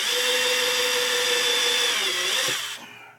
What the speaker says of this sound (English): You don't want to drill through the top of your new playfield.